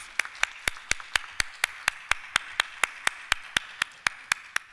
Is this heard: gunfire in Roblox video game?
no